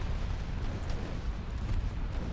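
Torpedo hits exploding against warships in the naval battle game Ultimate Admiral Dreadnoughts, heard as a dense, continuous low rumble of booms with a few sharper bursts, loud and steady throughout.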